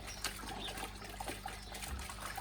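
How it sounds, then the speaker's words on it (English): Filter floss from a koi pond filter being lowered into a bucket of water, giving soft continuous sloshing and trickling, quiet and close with no talking. "I literally sit that down in my bucket of water"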